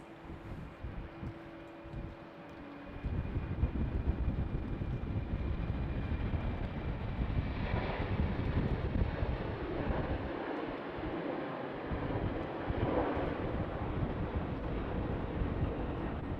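Jet engines roar at Amsterdam Schiphol Airport in winter conditions, a steady broadband rumble that swells after a quieter opening and holds on, mixed with wind buffeting the microphone. No voices are heard.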